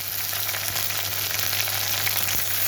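Sliced onion frying with nigella seeds in hot oil, a steady close sizzle with light crackle throughout and a faint low hum beneath, no voices.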